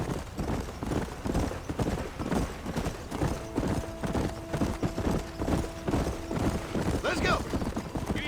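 Horse hooves clip-clop in a steady riding rhythm in the Red Dead Redemption game, close and continuous, with a faint tonal hum in the background and no speech.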